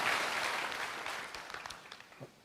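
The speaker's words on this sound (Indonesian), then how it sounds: "Mau berikan tepuk tangan yang paling meriah." A church congregation claps at a Sunday morning service, a brief burst that starts full and dense and then thins into scattered individual claps as it fades.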